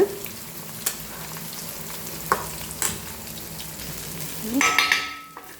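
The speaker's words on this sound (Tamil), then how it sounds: "சிக்கன் வந்து சின்னதில் வச்சுருக்கேன், அப்போ தான் வேவும்." Chicken frying on a low flame for biryani, with a steady soft sizzle and stirring. A few sharp scrapes or clinks break in, and a louder burst of frying rises near the end.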